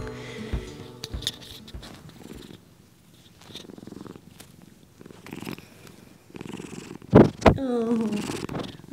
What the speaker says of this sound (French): Oui, tu ronronnes, toi.